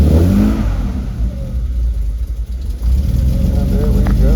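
A 1966 Austin Healey BJ8 engine runs close and loud just after a cold start, blipped in short revs that rise and fall over a rough idle, with voices briefly under it.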